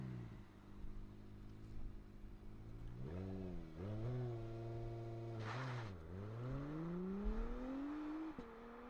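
An Acura NSX sports car engine idles, then revs up and down in rising and falling sweeps, growling close and steady.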